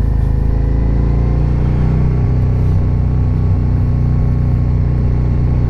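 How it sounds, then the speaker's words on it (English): A motorcycle cruises along a road through Wilmington, Vermont, its loud, steady engine drone and deep low rumble filling every second with no pauses. "Then there's people like me with obnoxious loud bikes."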